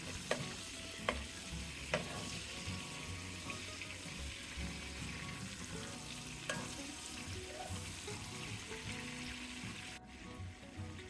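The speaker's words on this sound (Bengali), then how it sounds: "এবার মাছ ভেজে নেব। এক পাশ হয়ে গেলে তারপর উল্টে দিব।" Giant prawns fry in a pan with a steady sizzling hiss. Occasional sharp clicks and knocks come from the utensils, and the noise drops briefly near the end.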